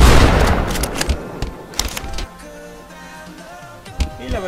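A shotgun fired in the video game Halo CE, a loud close blast at the start followed by a few sharper echoing reports and mechanical clatter.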